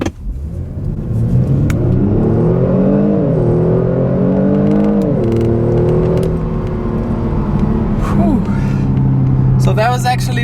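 A 2018 Kia Stinger GT accelerates hard from a standstill in first gear with kick-down, its engine note loud and close, climbing steadily in pitch, dipping briefly at shifts, then easing off near the end.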